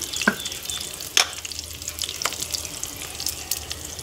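Fenugreek leaves and onion sautéing in a pan make a soft crackling sizzle, broken by a few sharp clinks and scrapes of stirring, close and fairly quiet, with no talking.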